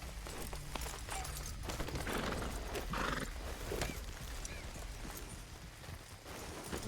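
Horses in Red Dead Redemption 2 clip-clop with quick hoofbeats and whinny, with scattered clatter and game ambience throughout, no speech.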